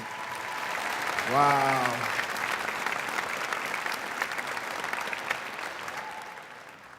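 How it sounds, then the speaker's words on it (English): An audience claps for students at an honors event; steady, fairly soft applause continues throughout, with one voice calling out briefly early on. "Let's give everyone a nice round of applause really quick."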